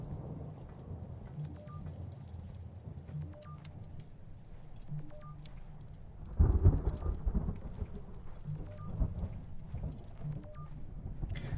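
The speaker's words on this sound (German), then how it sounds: "das Gewittersample kommt mir bekannt vor." Thunderstorm ambience in the video game Return to Grace: steady rain hiss with a low rumble, then a loud thunder crack rolling out midway and fading back into continuous rain, no talking.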